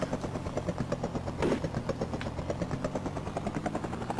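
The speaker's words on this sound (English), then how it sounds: "the helicopter just don't immediately take off" Helicopter engine idling in the Amiga game Rescue, a steady rotor-and-motor drone with rhythmic pulsing throughout, swelling briefly near the middle, alone with no talk.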